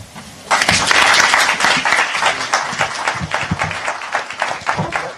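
A crowd bursts into loud, dense clapping after a brief quieter moment, the applause holding steady and then slowly thinning toward the end.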